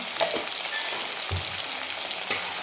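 Tomatoes cooking in a pan with a pinch of salt, giving a steady close sizzle with a few soft scraping stirs and no voices.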